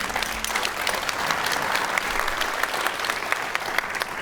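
A studio audience at a comedy club show gives steady, dense applause that holds throughout at an even, fairly loud level. No voices are heard over it.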